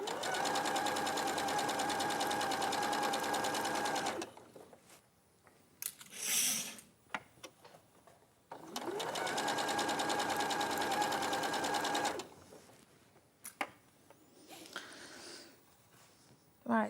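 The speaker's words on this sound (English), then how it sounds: "So I'm literally sewing with a 1/4 inch seam allowance here." A sewing machine runs a seam through boucle fabric in two steady bursts of close, even motor hum, separated by quieter handling sounds and small knocks from the fabric being moved.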